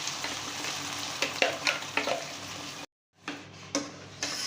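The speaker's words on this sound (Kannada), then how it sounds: "ಸ್ವಲ್ಪ ಎಣ್ಣೆ ಮೇಲೆ ಬರೋವರೆಗೂ ಈ ಥರ ಫ್ರೈ ಮಾಡ್ಕೋಬೇಕು ಚೆನ್ನಾಗಿ." Green tomato chutney paste with mustard seeds, garlic and curry leaves frying in oil, a close steady sizzle with spoon scrapes and clicks, briefly cutting to silence before resuming.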